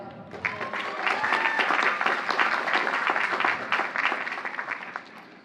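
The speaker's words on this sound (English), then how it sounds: "give another round of applause" A large audience applauds at the Queens College 2018 commencement ceremony, dense sustained clapping that swells quickly and holds steady for several seconds before tapering off, heard from within the crowd.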